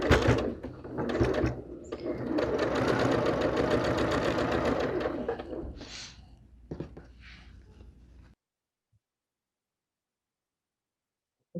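A sewing machine stitches a seam on an Arizona quilt block in a fast, steady whir for several seconds, then slows into a few short bursts before going quiet.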